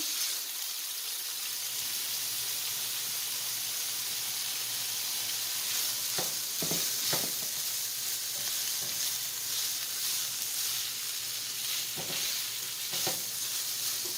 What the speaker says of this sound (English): I'm going to saute the meat, the turkey, and the smoked fish for a little bit.